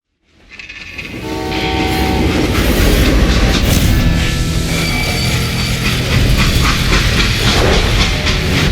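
A freight train in Call of Juarez Gunslinger builds from silence into a loud, steady rumble, with metallic screeching tones and a horn-like whistle over rolling wheel noise that holds to the end.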